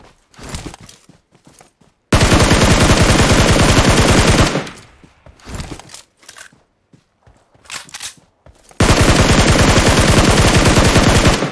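Automatic gunfire from PUBG Mobile: two long, loud sustained bursts of rapid machine-gun fire separated by shorter scattered shots and quieter gaps.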